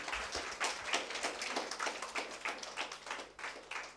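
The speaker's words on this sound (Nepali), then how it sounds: "चलो वो तीन लोग के लिए ताली बजा दे" Steady applause from a sermon congregation clapping for three people, a dense run of hand claps at moderate volume with no talking over it.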